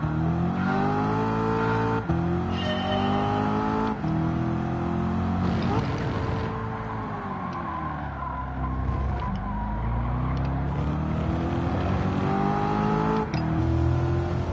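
Race car engine in Gran Turismo 7 revving and shifting through gears during a lap time challenge, loud and continuous with rising and falling pitch sweeps and gear changes, with talk over it.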